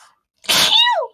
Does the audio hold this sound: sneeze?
yes